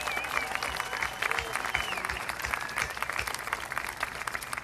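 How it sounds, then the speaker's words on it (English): A large crowd at the American Royal BBQ Open awards ceremony applauds the event's volunteers, a dense, sustained round of clapping with some cheering close by. "give a very big round of applause for is our over 500 volunteers"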